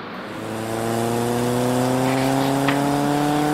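A cartoon car drives steadily in The Bad Guys, its engine holding a smooth, rising harmonic drone that swells in the first second and then stays loud and even, with no voices.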